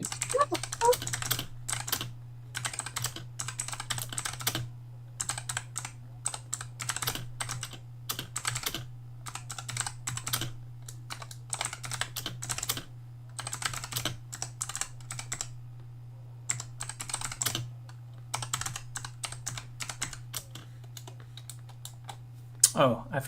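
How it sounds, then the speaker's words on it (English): Rapid clattering keystrokes on a computer keyboard come in bursts separated by short pauses, close by over a steady low electrical hum. "you can hear me typing"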